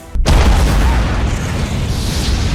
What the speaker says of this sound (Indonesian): Pada saat yang bersamaan bunker pun akhirnya meledak